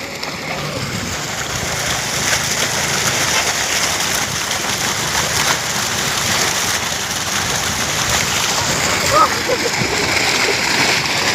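Children splash and play in water outdoors, with continuous loud splashing and spraying while an adult and kids talk over it.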